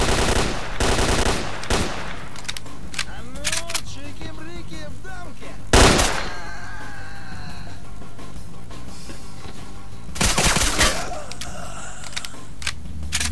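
Loud gunfire in the video game S.T.A.L.K.E.R.: Clear Sky comes in several separate bursts, with a sharp heavy shot in the middle and other game sounds between them.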